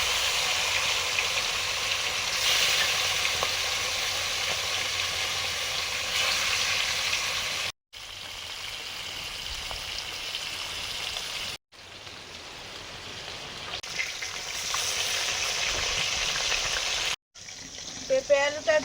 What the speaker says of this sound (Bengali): প্রথমে মাছগুলো ভাজছি।